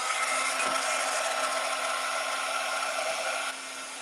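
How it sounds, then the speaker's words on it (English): A heat gun blows over clear embossing powder in a steady, close hiss with a faint whine, running continuously and dropping slightly in loudness near the end. "Now I'm just going to heat up my gun."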